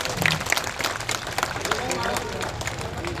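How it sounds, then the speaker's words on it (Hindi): A crowd at a BSP political rally in Meerut welcomes Lok Sabha candidate Devvrat Tyagi with applause, a busy wash of clapping mixed with crowd babble and shouts. "जोरदार ताली बजाकर स्वागत करते हैं।"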